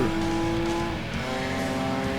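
A car engine in Gran Turismo 2 is held at the redline, giving a loud, sustained, steady high-rev drone with strong harmonic whine and no letup.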